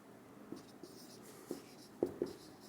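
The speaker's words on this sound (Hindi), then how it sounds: "पहले स्टेटमेंट लिख लूं" Pen or marker writing a statement on a board during a maths lesson on equivalent sets, heard as a few short scratchy strokes spaced apart, growing slightly louder toward the end, with no talking.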